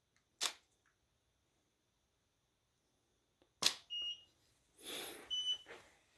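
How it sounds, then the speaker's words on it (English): A camera shutter fires with a crisp, quiet click in a calm room, then again about three seconds later, followed by faint electronic beeps and a soft rustle. "You can hear when the shutter goes off."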